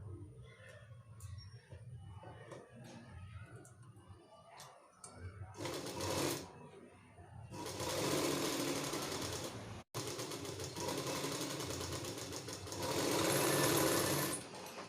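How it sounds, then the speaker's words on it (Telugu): Sewing machine stitching two folded pieces of saree blouse fabric together, running in bursts that build to long steady whirring runs with brief pauses, close and fairly loud, without speech over it. "ఇప్పుడు ఈ రెండు సమానంగా కలిపి కుట్టుకోవాలి"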